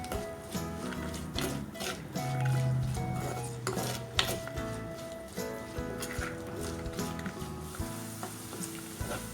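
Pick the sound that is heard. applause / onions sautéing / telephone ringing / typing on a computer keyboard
onions sautéing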